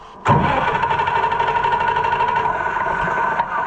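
An Oliver 1655 tractor engine catches abruptly and settles into a loud, steady, close-up running drone with a rough mechanical rattle, no talk over it.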